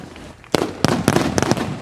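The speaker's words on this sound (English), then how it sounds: "Champagne bath down in victory lane as the fireworks go off." Fireworks bursting over victory lane after the Firecracker 100 Lucas Oil Late Model dirt race at Lernerville, a rapid series of loud, sharp cracks and pops in quick succession following a brief quieter lead-in.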